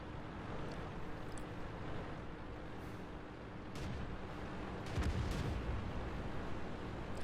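Booming tank cannon shots and shell impacts in World of Tanks, including a BDR's heavy gun, thudding over steady battle rumble, with the loudest hits bunched around the middle of the clip.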